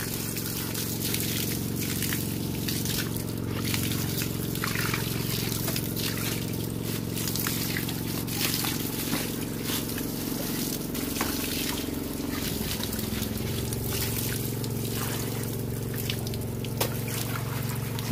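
Water trickles and dribbles steadily while a fish pond is being cleaned, a continuous close splashing flow with faint background hum.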